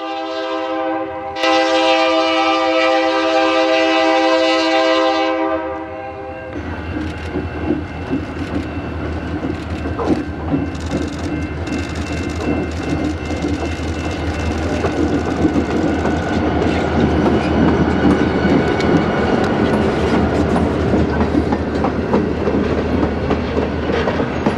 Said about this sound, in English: did another run-by as the train made its way back down to the river bridge